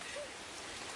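Rain falls steadily around a boat during a fishing outing, a dense, even hiss lasting about a second with no talking.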